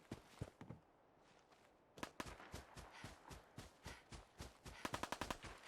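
Gunfire in the video game Fallout 4: scattered single shots and short volleys crack at moderate distance, building to a rapid automatic burst near the end, quiet overall and free of speech.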